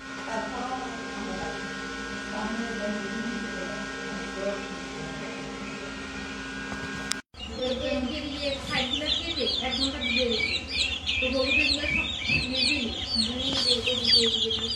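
Chickens on a Hatiya island poultry farm cluck and chatter busily in the second half, following a steadier hum-filled stretch, with people talking nearby.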